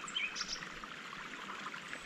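Water from a creek trickles and flows steadily at a quiet level, with a few faint bird calls over it.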